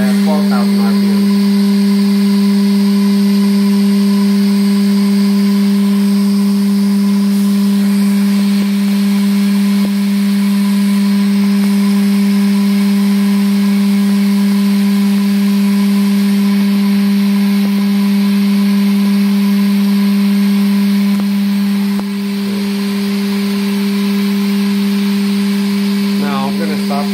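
A 2014 Haas VF-6SS 4-axis CNC vertical mill runs its spindle at 12,000 RPM. It makes a loud, steady, close-up mechanical hum with a strong tonal drone and a broad whir that stays constant throughout.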